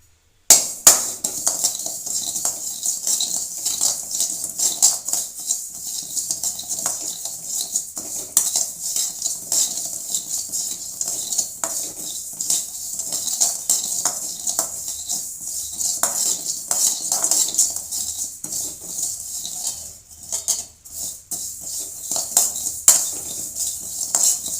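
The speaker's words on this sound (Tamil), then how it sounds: "சீரகத்தை நம்ம நல்லா வறுத்து எடுத்துக்கலாங்க." Cumin seeds dry-roasting in a pan, heard as close, repeated metallic scrapes and clinks of a spoon stirring against the vessel, with a faint crackle beneath and no talk.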